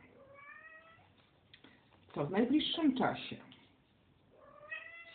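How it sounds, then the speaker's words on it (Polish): A cat meows several times in long, drawn-out wails, close and fairly clear, with a person speaking softly in the middle. "Pewnie mojego kota słychać w tle."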